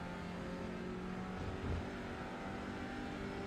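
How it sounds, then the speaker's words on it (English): An Audi race car engine in the iRacing game at Donington National drones steadily as it climbs through a curve, a continuous loud hum with a slight swell midway. "Just listen to the Audi climb through Schwantz curve"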